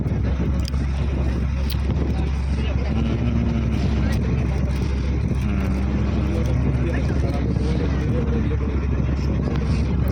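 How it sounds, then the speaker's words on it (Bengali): A small fishing trawler's engine drones steadily throughout at sea near Sagar Island, low and constant, with wind noise and faint voices in the background. "এখানে একটা ছোট ফিশিং ট্রলার, ছোট ফিশিং ট্রলার জাল ফেলছে, দেখো।"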